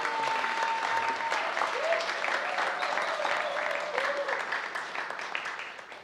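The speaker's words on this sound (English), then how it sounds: "Please give him a huge round of applause." Steady applause from a crowd at an evening kirtan festival in Rishikesh, dense clapping throughout, with a faint tone and some voices mixed underneath, tapering slightly at the end.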